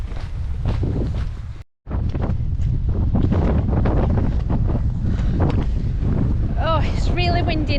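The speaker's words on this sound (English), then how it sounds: "Oh, it's really windy now." Strong coastal wind on the Cumbria Coastal Way buffets the microphone in a steady roar, with a brief dropout partway through and a few faint whistling tones near the end.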